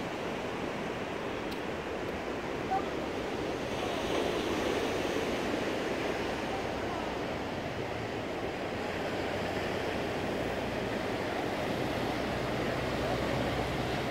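Ocean waves wash onto Newcastle Beach in a continuous, steady roar of surf, with no distinct pauses between breakers.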